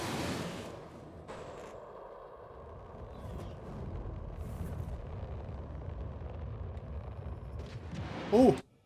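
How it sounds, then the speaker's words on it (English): In a naval combat video game, a missile is launched at a ship amid a sustained low rumble, ending in a short, louder burst from the hit. "Fire a missile."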